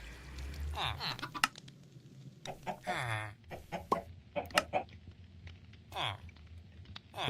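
Chickens cluck in a Minecraft skyblock world, several short game clucks scattered among other blocky game sounds while someone talks over them.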